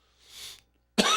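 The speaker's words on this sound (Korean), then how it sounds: "왜 기침 자꾸 나요?" A single short cough bursts out sharply at the end, close and loud, after a faint breathy sound and a brief pause, during a Wednesday church service.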